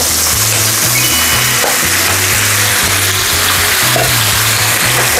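Pork added to a hot pan of tomatoes for pork kansi, giving a loud, steady sizzle of frying meat that fills the whole span, with stirring scrapes and a low rhythmic hum underneath.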